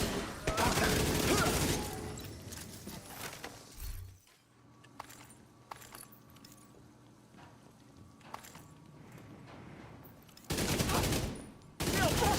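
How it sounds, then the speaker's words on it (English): Rapid bursts of automatic gunfire from The Division, loud and dense at the start and again near the end, with sparser scattered shots and glassy impacts in a quieter middle stretch. "I'm busy shooting things."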